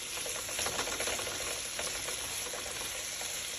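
Onions and tofu sauté in a pan for a Korean spicy tofu soup, giving a steady, moderately loud sizzle with faint crackles throughout and no talking.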